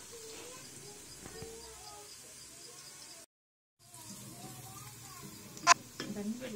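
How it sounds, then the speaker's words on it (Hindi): Onions fry and brown in mustard oil with a faint, steady sizzle, broken by a short silence midway and followed by a sharper stirring scrape near the end. "जैसा कि आप देख रहे हैं कि प्याज हमारे हल्के हल्के ब्राउन होना शुरू हो गए हैं।"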